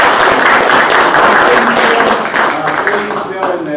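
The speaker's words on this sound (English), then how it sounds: "I'd like to really give him a round of applause" An audience applauds with a dense, steady wash of clapping that fades slightly toward the end, and a voice carries over it.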